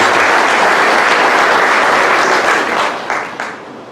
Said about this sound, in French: Pour vous applaudir bien fort